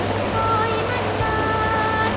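A waterfall on the Mekong River pours continuously, a loud, steady broadband rush filling the whole moment without breaks, with a faint voice and a low hum beneath it.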